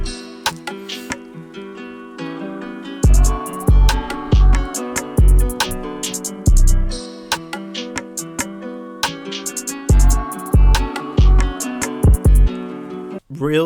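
Full type beat built from a loop and a vocal chop: melodic layers run throughout, while heavy kick and snare hits come in and drop out in sections. The beat plays loud, with no talking.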